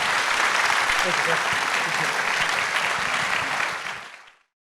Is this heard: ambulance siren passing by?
no